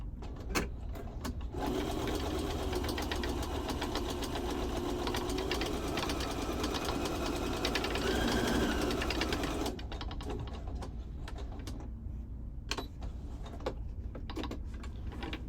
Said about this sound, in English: instead of hand sewing this, we're just going to do a straight stitch